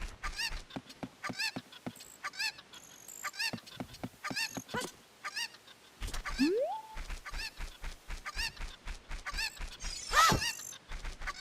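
Bird calls in the video game Zelda Ocarina of Time: repeated honking, goose-like squawks in quick rhythmic bursts, pausing briefly and then resuming, with a rising slide and a sharp louder call near the end, alone without talk.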